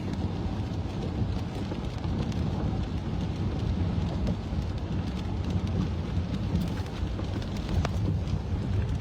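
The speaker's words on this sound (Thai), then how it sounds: "ขอนแก่นฝนตกหนักมาก" Steady heavy rain in Khon Kaen, Thailand roars without a break, with low rumbling underneath that could be distant thunder.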